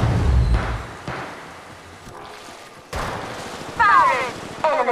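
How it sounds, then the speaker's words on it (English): Gunfire in the mobile game Apex Legends Mobile rings out in several sharp bursts: a heavy volley at the start, a lighter shot, then more rapid shots later, with game voice callouts mixed in. "Listen up, I'm getting shot at."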